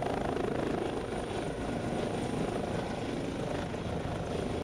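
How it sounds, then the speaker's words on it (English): An EC-135 helicopter of the Nigerian Air Force flies at an air base in Port Harcourt, its steady rotor thump and engine roar continuous and fairly close throughout, with no voices. "That's the EC-135 helicopter inducted into the Nigerian Air Force in 2016."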